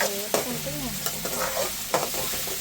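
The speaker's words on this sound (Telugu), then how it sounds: "దోరగా ఎర్రగా వేయించుకోవాలి ఆనియన్స్" Onions frying in a pan, with a steady sizzle and repeated stirring scrapes that come close and fairly loud; no one speaks.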